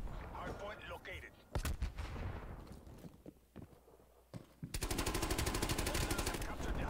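Call of Duty Black Ops Cold War gunfire cracks out in bursts, from scattered shots to a dense rapid volley at the end, with in-game sounds and brief player talk mixed in.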